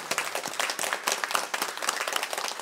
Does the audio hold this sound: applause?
yes